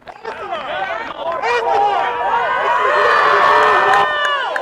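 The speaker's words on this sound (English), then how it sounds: "there's loud booing" A crowd at a high school baseball game between Crescenta Valley and Arcadia boos loudly, many voices rising and swelling together in a sustained roar, with shouted calls mixed in.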